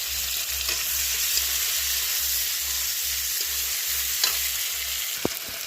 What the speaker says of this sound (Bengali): এখানে কেটে রাখা টমেটো, পেঁয়াজ, কাঁচা লঙ্কা সবই একসাথে গরম তেলে দিয়ে দেবো